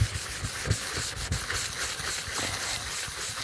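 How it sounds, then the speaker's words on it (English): A sanding block rubs over a painted surface on a small craft box, giving a steady close hiss of scraping strokes in an uneven back-and-forth rhythm, with no talking. "Just a little going over with the sanding block"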